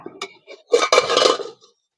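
A lid lifts off a cooking pot of spicy kachki fish curry, giving a brief clink and scrape of metal followed by a short rattling clatter at close range, then quiet.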